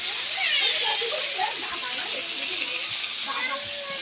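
A fish head frying in hot oil in a home kitchen gives a steady, bright sizzling hiss that fills the clip, with faint voices murmuring underneath.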